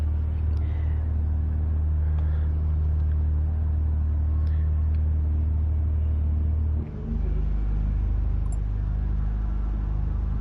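Race cars in the video game GT Sport at the start of a BTCC race on the Nurburgring, a loud, dense engine drone and rumble that shifts pitch partway through as the cars accelerate, with no talking.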